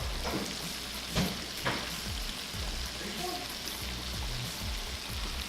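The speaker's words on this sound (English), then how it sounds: "So we're just gonna start laying them in there, frying them up till they're golden brown." Continuous crackling sizzle of wild turkey pieces frying in hot grease, with a few bumps and splashes as pieces go in.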